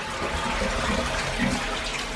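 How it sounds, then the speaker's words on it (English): Water runs steadily into a Japanese toilet tank through the small hand-washing sink built on top, a close, continuous splashing trickle heard alone. "You can wash your hands and it fills the tank."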